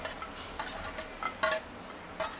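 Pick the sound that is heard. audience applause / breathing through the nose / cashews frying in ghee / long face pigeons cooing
cashews frying in ghee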